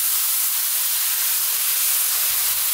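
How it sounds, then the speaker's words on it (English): Mushrooms, chopped tomato, fresh green chili, chili powder and turmeric frying on high heat in a pan, a loud steady sizzling hiss with no talk. "high heat, frying all the time and stirring."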